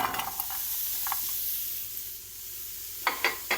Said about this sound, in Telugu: ఇప్పుడు ఫ్రై చేసుకుందాము లైట్ గోల్డ్ కలర్ వచ్చే వరకు